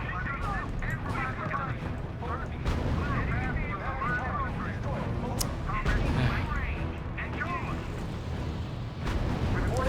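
Sustained gunfire strikes an infantry unit in the WWII strategy game R.U.S.E. Scattered sharp reports mix with a dense battle rumble, and voices talk over it throughout.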